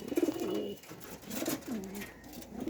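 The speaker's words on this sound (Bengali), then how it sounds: "এই যে দেখেন একবারে শান্তশিষ্ট একটা কবুতর" A calm female Jacobin-type pigeon with yellow eyes and feathered feet coos softly in a few low, rolling phrases, quiet and close, with faint background noise.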